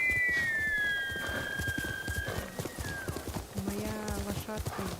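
A horse in the video game Ghost of Tsushima gallops with rapid hoof clip-clops and lets out loud neighs and whinnies, with game sounds in the background.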